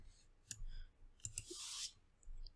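Computer mouse clicks while working in Blender, a few faint sharp clicks spaced irregularly over quiet room noise, with a soft hiss partway through and no talking.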